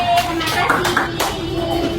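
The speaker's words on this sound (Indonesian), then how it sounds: "Ada tepuk tangan lagi?" Children clapping their hands in a fourth-grade classroom, a few short bursts of claps spread over a brief moment, moderately close.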